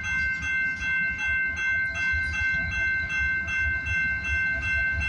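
A CN freight train led by locomotive 6307 rolls past at a rail crossing in Toronto, wheels clacking in a steady rhythm over the rail joints beneath a sustained high tonal whine, heard at moderate distance.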